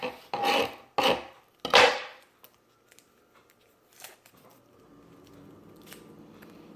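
A knife cuts the ends off a garlic clove in three quick rasping strokes close by, followed by faint taps and a soft thud, then near quiet with a low hum.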